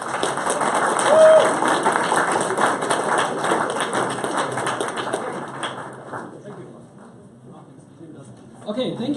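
An audience applauding the startups at an accelerator demo day in Berlin: dense, sustained clapping from a crowd that fades out near the end, after which a voice begins speaking.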